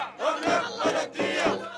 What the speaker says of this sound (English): the crowds gather still outside the military headquarters. Today they're chanting, "Only blood washes blood."